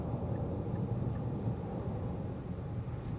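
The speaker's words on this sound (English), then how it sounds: "Road noise does filter in a little bit more so." Road noise inside a 2025 Infiniti QX60 Luxe Black Edition luxury SUV while driving, a steady low rumble with a faint wind hiss that holds even throughout, no voices.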